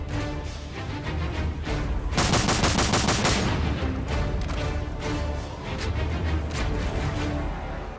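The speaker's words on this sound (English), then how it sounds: "Let's take a look at the recoil of the AA-12." An AA-12 automatic shotgun fires in Modern Warfare 3 multiplayer, with loud, rapid bursts of booming shots that repeat across the whole stretch and a dense volley in the middle.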